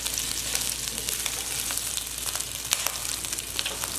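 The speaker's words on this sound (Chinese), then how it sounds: "啊，煎肉的声音真是太好听了。" Pork ribs seasoned with salt and black pepper fry in hot oil in a pan, giving a steady, dense close-up sizzle with crackling pops throughout and no talking.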